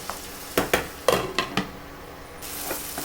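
Vanjaram (seer fish) pieces frying in oil for a raw-mango gravy curry, with a steady low sizzle broken by several sharp clinks and scrapes of a spoon or spatula against the pan.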